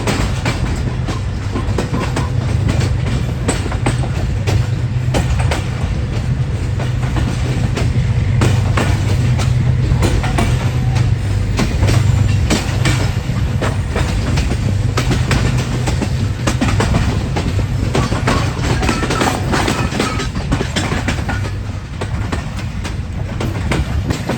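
The New Khushal Khan Khattak Express runs on its rails from Karachi to Sehwan, a loud, continuous rumble with a steady clickety-clack of wheels over rail joints, heard from inside the train for the whole stretch.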